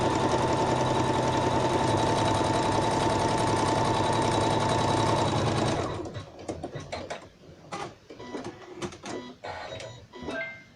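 An embroidery sewing machine stitches a coaster in red thread, a loud rapid mechanical whirring and chattering for about six seconds before stopping, followed by scattered clicks and handling noises.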